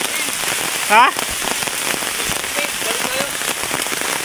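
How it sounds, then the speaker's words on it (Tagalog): Heavy rain on a mountainside, a dense steady hiss of drops pattering on surfaces, loud and continuous, with a brief questioning voice near the start. "Sobrang ulan."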